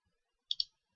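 A computer mouse gives two quick, crisp right-clicks in close succession, faint and isolated in an otherwise quiet room.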